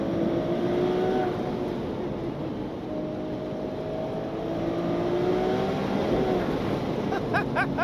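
A Ferrari 296 GTS convertible's engine pulls hard toward its 8,500 RPM redline, a loud, steady rising drone with tonal harmonics that climb through the run and briefly settle before surging again.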